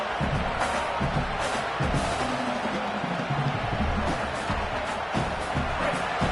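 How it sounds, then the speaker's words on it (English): Dense roar of a football stadium crowd cheering loudly and steadily to rally the home defense, with swells of noise and occasional thumps in the din, during a college football game between Alabama and LSU. "Listen to this crowd just shaking the girders of this place, trying to help their defense."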